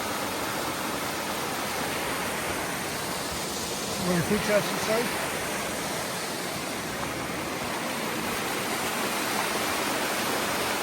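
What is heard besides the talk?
waterfall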